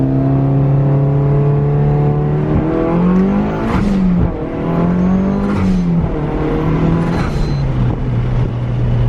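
A wide-body Toyota Supra engine drones loudly from inside the car while driving, its steady tone dipping and rising through several gear shifts, with brief interruptions between gears and occasional talk.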